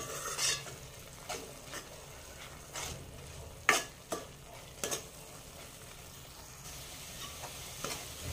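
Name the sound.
sautéing cashew paste in a pan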